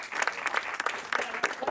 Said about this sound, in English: Whoa, give them all you round of applause.